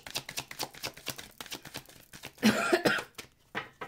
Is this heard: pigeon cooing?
no